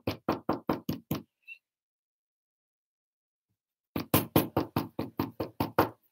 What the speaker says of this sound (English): why are you knocking at my door?